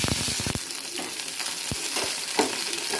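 Green chillies frying in hot oil, a dense close sizzle with a few sharp pops and spoon clinks at the start and scattered taps later, steady and fairly loud.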